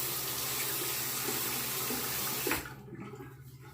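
Tap water runs steadily into a sink while a razor is rinsed during a wet shave, a continuous close hiss that cuts off abruptly near the end, leaving only faint room noise.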